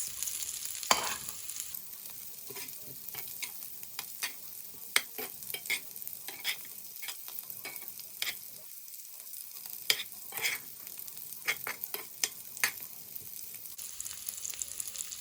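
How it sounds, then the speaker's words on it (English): Plant-based soya chicken pieces sizzle steadily in a hot pan, with frequent sharp crackles and spits popping throughout, close up and fairly quiet, no voices. "I'm going to let that sizzle away and turn it every now and then so it doesn't burn."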